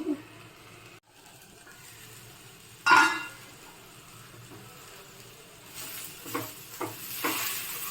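Kohlrabi chutney ingredients sautéing in a pan give a soft, steady sizzle with occasional stirring scrapes, a brief louder burst near the middle, and a busier crackle toward the end, all close and fairly quiet.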